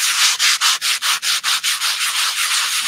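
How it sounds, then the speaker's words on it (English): Sanding pad with fairly soft grit rubbed back and forth over modelling paste in a lace craft project, giving a close, steady rasp in about ten quick regular strokes that then blur into continuous scrubbing. "So I now have just a sanding pad. It's not particularly hard grit"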